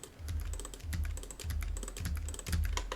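Computer keyboard keys pressed in quick, steady strokes while working in Blender on an aircraft model, including a Control-Q shortcut, each keystroke a close, crisp clack with a dull thump beneath, repeating about every half second.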